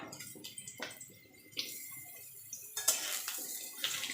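Pumpkin pieces go into a pan of frying potatoes, heard as close clatters and scrapes of utensil against pan over a faint sizzle, with louder bursts of frying toward the end.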